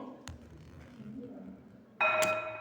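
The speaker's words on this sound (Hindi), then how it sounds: "घंटी लगी।" A bell rings during a classroom lesson on Sanskrit poetics, sounding as a sudden sustained ringing tone near the end, loud and clear after quiet, muffled room noise.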